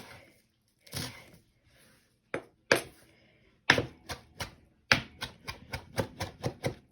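A knife chops a bunch of fresh cilantro on a cutting board: a few scattered cuts, then a quick run of about a dozen crisp, evenly spaced chops close by, with no talking.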